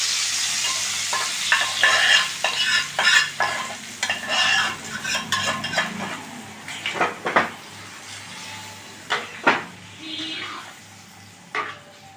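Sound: oil and bori poured over vegetable curry and stirred

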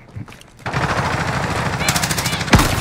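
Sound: gunfire in video game Call of Duty Warzone

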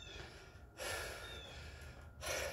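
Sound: heavy breathing during an anaerobic workout

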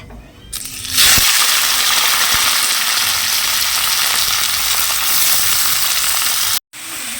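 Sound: panch phoron and winter vegetables frying in hot oil

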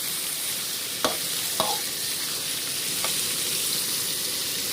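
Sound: stir-frying fish with southern Thai curry paste

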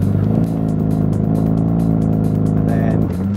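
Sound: McLaren 570S engine revving at full revs in launch mode

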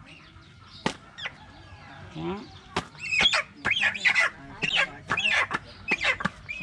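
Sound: chicken clucking during a ritual release

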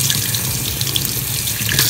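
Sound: pouring hot water out into a sink

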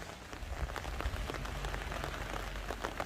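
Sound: rain falling on a vegetable garden

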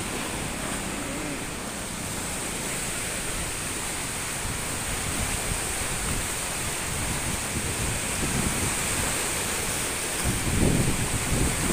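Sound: large waves on Lake Ranau at the Banding Agung dam

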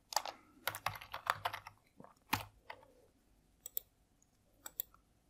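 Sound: typing on computer keyboard, entering UPI ID for payment

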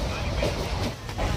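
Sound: moving passenger train interior

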